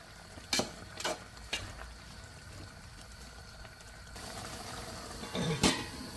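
A traditional Kerala dish simmering in a covered pot is stirred, with a few sharp spoon clinks against the pot over a low bubbling background, and a louder scrape near the end.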